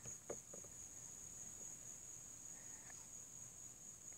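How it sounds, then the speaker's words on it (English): Night insects chirp and buzz as a solar eclipse darkens the sky on August 21, 2017: a faint, steady high-pitched drone continues throughout, with a few soft clicks and rustles nearby. "You can already hear the night bugs starting to come out."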